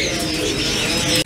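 Pigeons at a bird market in Multan, including German Beauty and other fancy breeds, give a steady chorus of cooing and chirping close by, with no talk, until a brief dip at the end.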